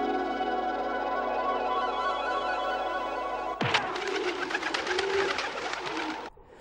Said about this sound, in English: she then summons some pigeons to help her escape